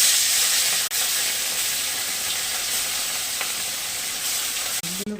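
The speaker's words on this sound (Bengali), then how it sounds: "তেল গরম হয়ে গেছে, এগুলোকে" Small khoira fish frying in hot oil in a pan, a steady dense sizzle and hiss running unbroken throughout with a few faint clinks near the end.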